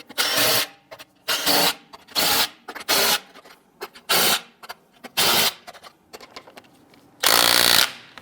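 An impact wrench snugs down wheel lug nuts on a Jeep Grand Cherokee: about seven short, loud, rattling bursts separated by brief pauses, ending with a longer final burst, close and alone.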